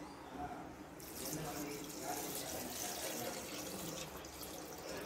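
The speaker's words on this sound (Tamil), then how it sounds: "இந்த தண்ணியை ஊத்து." Water is poured into a cooking pot of dal curry, a Tamil-style paruppu kulambu made without coconut. The stream enters after a short pause, then runs as a steady, splashing rush, and people talk around it.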